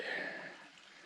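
Sugar Hill Brook running very low, a barely trickling brook on a dry trail, giving a soft, steady hiss of water that eases off over about a second with no talking.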